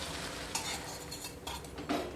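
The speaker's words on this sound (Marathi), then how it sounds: "जे फेटून घेतलेलं अंडं आहे ते टाकायचं" Beaten egg hits hot oil on a griddle for a street-style bread omelette, giving a steady close sizzle with a few scraping spatula strokes.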